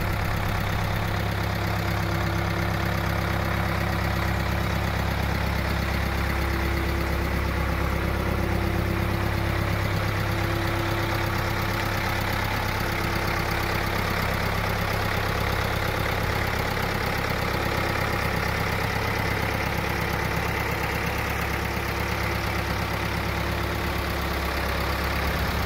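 A backhoe engine runs steadily at a farm arch barn, a constant low rumbling drone that holds at one level for the whole stretch with no talk over it.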